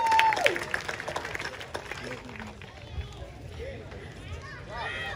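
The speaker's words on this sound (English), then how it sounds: "A round of applause for the DJ." Audience applause for the DJ at a community dance event, a steady patter of claps mixed with crowd chatter and voices, moderately loud throughout.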